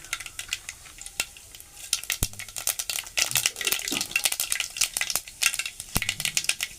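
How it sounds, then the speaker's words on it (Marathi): Mustard seeds crackling and popping in hot oil as a home dish begins, a dense run of sharp close pops and sizzle over the full clip, with no talking. "आपलं तेल आता तापलं असेल हो तापलं आपलं तेल आता मी त्यामध्ये राई"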